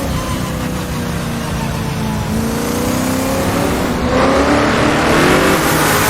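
A race car engine at Mont-Tremblant in Assetto Corsa roars loudly and continuously, its pitch climbing steadily through the gears as it accelerates, with no voices over it.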